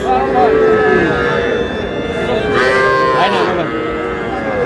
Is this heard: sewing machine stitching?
no